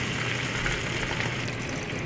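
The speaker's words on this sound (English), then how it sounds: "I will now add the marinated pomfret and we will lightly fry the pomfret for about 3 to 5 minutes" Marinated pomfret fish fries lightly in a pan, a steady soft sizzle with faint crackling, continuous and close with no voices.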